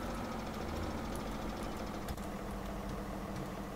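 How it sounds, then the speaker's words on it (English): A Case IH tractor engine idles in Farming Simulator 2017: a steady, low mechanical rumble with a faint rhythmic knock. It runs continuously and moderately loud, with no talk over it. "I should probably turn off the engine"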